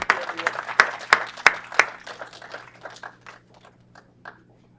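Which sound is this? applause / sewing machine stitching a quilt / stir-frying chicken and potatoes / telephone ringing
applause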